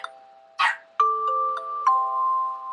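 A dog named Oreo gives a couple of short barks near the start, followed by sustained chime-like tones that ring out and overlap in the quiet.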